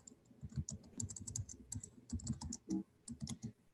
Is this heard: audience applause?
no